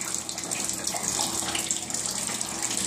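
Roof leak water running through a drain hose into a catch basin, a steady, close rush and trickle of flowing water that continues without a break.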